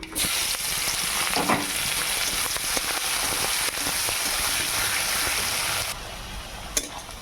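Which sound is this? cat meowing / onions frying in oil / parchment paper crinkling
onions frying in oil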